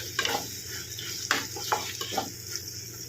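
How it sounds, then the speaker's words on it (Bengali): A spoon scrapes and stirs chili paneer in a frying pan over a steady sizzle, with several distinct scraping strokes against the pan and no voices. "ভালো করে নেড়ে নেব।"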